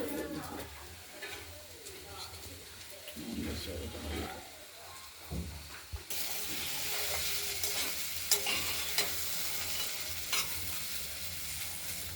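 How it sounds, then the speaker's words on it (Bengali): Steady sizzling of flat beans and sweet potatoes frying in a pan, growing louder partway through, with occasional stirring and a voice talking underneath. "শিমের সঙ্গে রাঙা আলু দিয়ে ভাজা ভাজা করা অনেকটাই হয়ে এসেছে"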